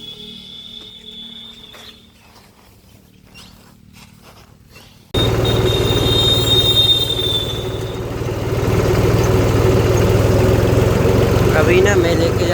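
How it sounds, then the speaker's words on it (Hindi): A farm tractor engine starts running about midway through, its low steady rumble and clatter carrying on loudly after a quieter stretch of background noise. "अभी ना मैं लेके जा रहा हूँ ट्रैक्टर को अपने कुआ वाले खेत पे।"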